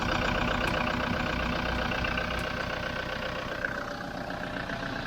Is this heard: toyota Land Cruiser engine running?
yes